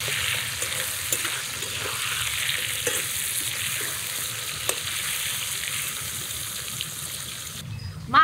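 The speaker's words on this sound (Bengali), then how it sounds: "তেল দিয়ে প্রথমে মাছটা মুড়িয়ে নিচ্ছি, আবার অল্প তেলে ভাজছি।" Rohu fish paturi wrapped in pumpkin leaf fries in shallow oil, producing a steady, close sizzle with light crackling that cuts off briefly near the end.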